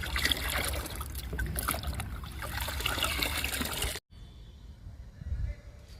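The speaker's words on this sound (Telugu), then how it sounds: "ఫస్ట్ చెట్టు చిక్కులకి ఇస్తున్నానండి లిక్విడ్ని" Homemade liquid fertilizer trickles and splashes steadily onto bean plants in a garden, a close continuous pour that stops abruptly near the end, leaving quieter outdoor background.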